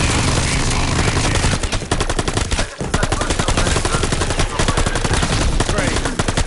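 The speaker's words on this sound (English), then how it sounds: "I'm shooting your face again!" Rapid, sustained gunfire from a Call of Duty Zombies game, dense bursts of shots filling the whole stretch, loud and close with one brief gap near the middle.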